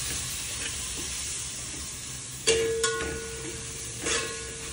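Masala frying in a pan for mutton biryani gives a steady, soft sizzle with a few sharper clinks and stirring scrapes partway through, close and moderately quiet, with no voices.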